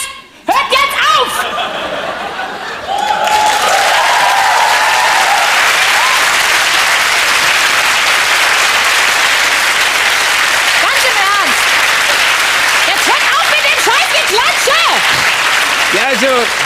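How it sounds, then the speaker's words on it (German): A television studio audience claps loudly and continuously on a dating game show, a dense, close roar of applause that keeps building, opening with a voice and a burst of laughter. "Hör auf zu klatschen!"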